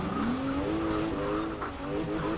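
A Porsche Macan rally build slides through a handbrake skid in snow in Forza Horizon 4, its engine droning and slowly rising under a steady scrubbing tire slide that lasts throughout.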